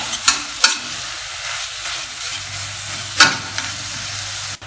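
A spoon stirs minced kofta through mixed vegetables in a frying pan, giving a steady sizzle broken by a few sharp scrapes and knocks of utensil against the pan.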